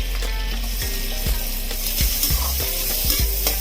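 Two medium onions, finely chopped, fry in hot butter for pav bhaji, producing a loud, dense, continuous sizzle with faint metallic scraping and clinks of stirring.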